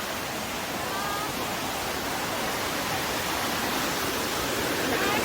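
Tumpak Sewu waterfall in Indonesia roars as a steady, dense wash of falling water, continuous and fairly loud with no voices over it.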